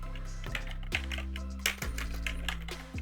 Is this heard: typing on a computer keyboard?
yes